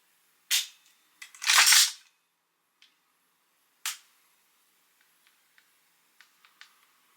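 Several sharp dry clicks from a BJ Tac aftermarket trigger box in a Tokyo Marui MWS airsoft rifle, a few louder snaps early on followed by faint, sparse ticks, close up with no talking.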